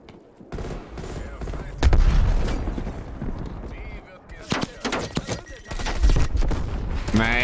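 In Call of Duty Cold War, a sentry gun fires loud bursts of rapid gunfire amid scattered explosions and shots, with a voice talking between the volleys.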